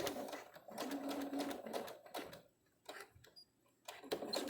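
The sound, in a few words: sewing machine stitching a folded fabric mask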